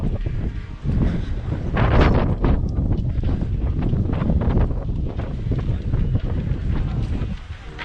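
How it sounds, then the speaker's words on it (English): Wind buffets the microphone on the beach at Playa de Palma, Mallorca, a loud, continuous rumbling roar with gusting surges throughout and no one talking. "Oh, and the wind's just picked up again."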